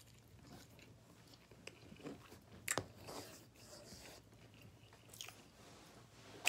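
Close, quiet chewing and crunching of fries with BBQ sauce, with irregular bites and soft squishy mouth sounds spread across the stretch in a hushed room.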